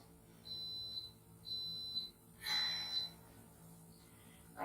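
A kitchen coffee maker gives three short, high electronic beeps, faint and somewhat distant, with quiet room noise between them and no voices.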